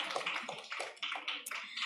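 A conference audience claps for a plenary-session speaker in a room, heard as a brief run of uneven, fairly soft clapping bursts with no talk.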